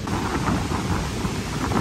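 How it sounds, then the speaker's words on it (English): Heavy rain pours steadily on a hiking trail at Hanging Rock State Park, with a low rumble of thunder underneath; a dense, loud, continuous wash of rain without any voices. "Oh, it's raining pretty good right now."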